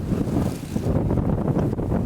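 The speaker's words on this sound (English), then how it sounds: "It's very windy." Strong wind buffets the microphone at an outdoor picnic on grass, a continuous loud rumbling roar with gusts that rise and fall throughout, with no voices.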